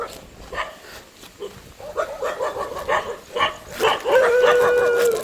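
Several dogs bark and yelp in repeated bursts on a rainy night outdoors near a river during the season's first rain, the barking close, growing louder and more insistent toward the end, with a howling whine.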